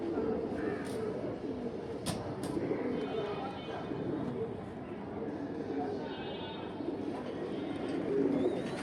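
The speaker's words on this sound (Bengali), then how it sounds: "এক পেয়ার সিলভার অ্যালুমিনিয়াম কবুতর," A pair of silver aluminium pigeons coo steadily through a background murmur, with a few brief sharper calls and a voice talking over them at a pigeon market.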